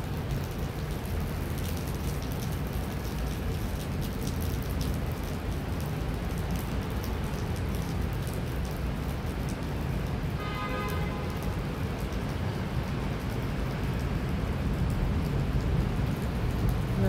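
A heavy rain shower beats down in a dense, constant hiss with a deep low rumble running beneath it. The sound stays steady and enveloping throughout, and no voices are heard.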